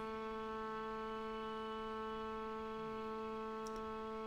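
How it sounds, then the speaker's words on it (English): A single sustained trumpet tone, steady and even with rich harmonics, held for several seconds at moderate volume with a faint tick near the end. "And here's a trumpet."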